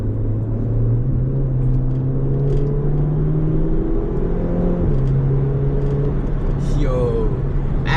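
Volkswagen GTI accelerating on the road, heard from inside the cabin: a low engine drone climbing in pitch through gear changes, steady and loud, with road rumble underneath and occasional faint voice sounds.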